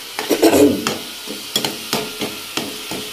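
Tadka sizzling and frying in oil for a restaurant-style paneer masala, with a burst of loud crackling early on, then a run of short, evenly spaced stirring clatters against the pan, close by.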